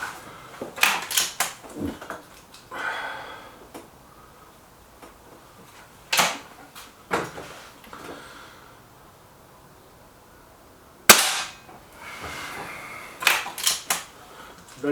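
A .22 pellet air rifle firing heavier pellets gives a series of sharp, close cracks spaced irregularly, each followed by a brief tail and quiet gaps.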